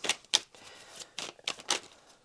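Tarot cards being shuffled by hand, giving a series of soft, papery riffling bursts in irregular rhythm, close and fairly quiet, with no talking.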